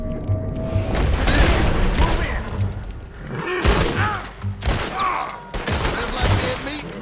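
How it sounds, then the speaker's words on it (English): A burst of gunfire in Red Dead Redemption 2: several sharp, close shots in quick succession, then a pause and more shots with metallic mechanical clacks, loud against the game's background. "I'm trying to shoot the gun out of your hand, sir"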